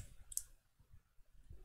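A single sharp computer mouse click, heard while working in FreeCAD's Tech Draw workbench, stands alone against a faint low background hum.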